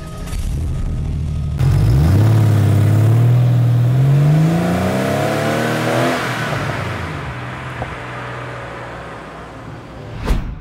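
Close engine roar as a 24-year-old air-cooled classic car accelerates, pitch rising through a gear, then settling into a steady drone with a small clunk at the end.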